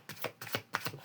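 Tarot cards are shuffled in quick, rhythmic riffles, four soft bursts in about a second, close and quiet.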